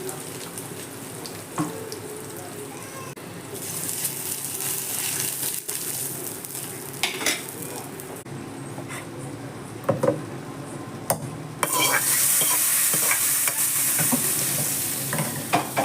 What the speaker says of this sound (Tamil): கடுகு பொரிஞ்சிருச்சு கொஞ்சமாக பெருங்காயம்